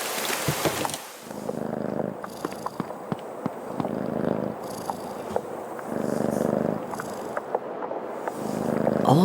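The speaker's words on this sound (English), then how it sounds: "Here, kitty, kitty, kitty, come down and have some tasty milk." A cat purrs in the video game Creepy Tale 2, a close, rhythmic rumbling purr that swells and fades in repeated breaths, steady and soft, with no voices over it.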